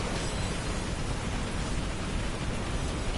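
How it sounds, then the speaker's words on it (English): Heavy rain in the video game Beyond: Two Souls, a dense, even hiss of downpour that stays constant and fairly soft, with no voices over it. "Oh, heavy rain, what a surprise."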